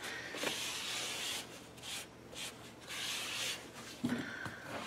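A cloth rubs stain onto a maple guitar top, making close, soft rhythmic swishing strokes in bursts with short pauses between them and a small knock near the end.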